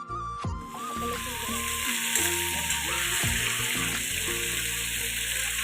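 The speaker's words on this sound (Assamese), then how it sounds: "মই তেলটো ধুনীয়াকৈ গৰম হোৱাৰ পিছত মাংসখিনি ইয়াত দি দিলোঁ" Meat sizzles and crackles steadily in hot oil as it is fried, a loud, continuous frying hiss broken by occasional clatters of utensils, with no talking.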